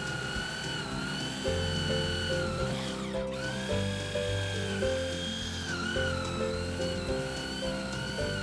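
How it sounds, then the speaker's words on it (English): A spade bit bores through a hardwood 4x4 with a steady, whining power-drill drone and shifting pitch, briefly interrupted around the middle before resuming, close and loud without talk. "try to drill through the 4x4 again"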